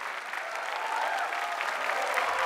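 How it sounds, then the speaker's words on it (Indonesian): Studio audience applauds a contestant's performance on an Indonesian talent competition's road-to-grand-final round, a steady, even wash of many hands clapping throughout without a break. "kita beri tepuk tangan yang meriah untuk Pas Eman"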